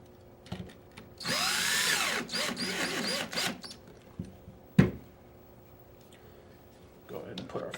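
A power drill snugs down small screws while installing an e-trigger kit on a US Army Alpha Black rifle, a couple of close bursts of whirring with a sharp click between and quiet handling around them.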